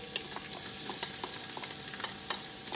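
Fried rice sizzles steadily in a wok, a close, continuous hiss broken by occasional sharp crackles and light scraping as it is stirred.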